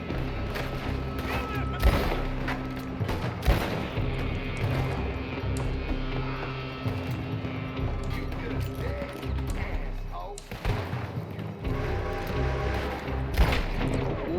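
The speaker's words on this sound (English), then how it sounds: "They're shooting from that building." Gunfire rings out in Red Dead Redemption 2 as enemies shoot from a building, a dense barrage of shots and booms that is loud and continuous, with voices shouting and talking over it.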